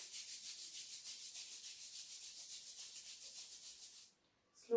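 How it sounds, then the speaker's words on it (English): Palms rubbed briskly together in a yoga session for children, a steady rhythmic swishing friction lasting about four seconds, then a short pause and a faint hand sound at the end. "Rub your palms."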